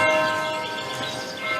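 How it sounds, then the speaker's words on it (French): Church bells ring at the Abbaye de Fontevraud, a loud dense clang of overlapping metallic tones sustaining throughout the short burst. "Tu crois qu'on va se taper les cloches tous les nuits?"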